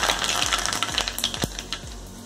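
Mustard seeds spit and sizzle in hot oil for tempering a Puneri misal, a dense steady crackle with a few sharp pops breaking through, close and continuous.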